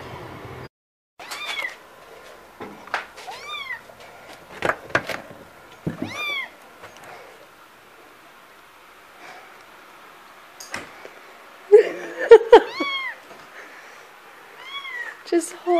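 A new kitten meows repeatedly in short, high, upward-bending cries, with a cluster of louder, more insistent meows toward the end, heard close up against a quiet room with occasional talk.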